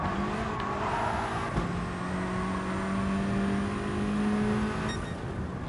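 A Volkswagen race car accelerating, its engine holding a steady, rising whine with a hum that climbs in pitch across several seconds, loud and close throughout with no voices.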